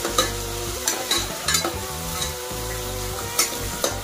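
Field beans, onion and green chillies are stir-fried together for a field bean methi bath, producing a continuous loud sizzle broken by repeated scraping clacks of a spatula against the pan at a loose, irregular rhythm.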